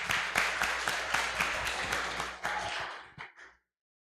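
An audience applauds a speaker after an introduction, with dense, steady hand claps continuing for about three seconds before tapering off into a few scattered claps and silence.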